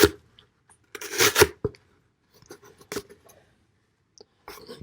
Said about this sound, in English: Goes right through the cardboard. Cuts easily. Even with tape on it